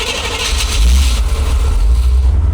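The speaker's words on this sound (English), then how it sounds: "we're about to cold start the Corvette" A Chevrolet Corvette engine cold-starts, the starter catching into a loud, rising roar that settles into a steady, close rumbling idle with no voices.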